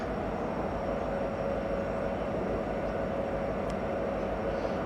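A BNSF SD70MAC diesel locomotive moves off after refuelling, its heavy engine throbbing as a steady, loud, close-up drone with a constant low rumble throughout.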